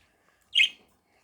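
A cartoon bird gives one short, bright chirp midway through an otherwise silent moment. The chirp is clear and close, and nothing else is heard around it.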